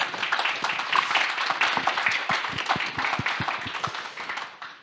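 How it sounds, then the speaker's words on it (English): A small audience applauds a panel on gender equality in the cultural economy, with individual claps standing out crisply in a loose, uneven rhythm that thins and fades toward the end. "Yes, this is your applause."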